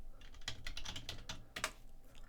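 Keys clatter in a fast, steady burst as a word is typed into a Python program on a computer keyboard, close and clear with a few louder strokes and no voices.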